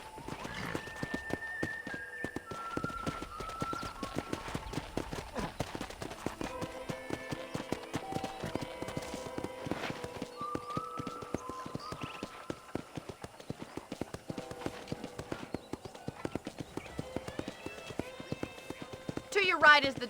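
Horse hooves clip-clop steadily through a ranch in the Red Dead Redemption video game, a brisk repeating rhythm heard close, running under continuous talking, with a brief whinny-like burst near the end.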